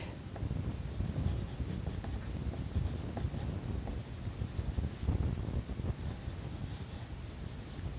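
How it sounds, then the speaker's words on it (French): A pencil scratches steadily across a sheet of paper, a soft, continuous dry rasp with small strokes and pauses, close to the microphone and fairly quiet. "je sais pas trop si ça s'entend mon crayon sur la feuille"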